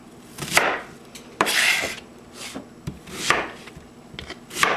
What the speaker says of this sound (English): So I'm just going to quarter these onions, or basically make them in eighths